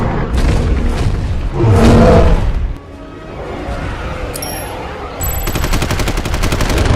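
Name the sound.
gunfire in a dinosaur battle film scene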